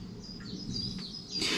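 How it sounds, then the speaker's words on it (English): Birds chirp and warble softly in the distance after rain, several high calls overlapping against a quiet outdoor background at a treehouse campsite. "And quite a lot of birdsong just now"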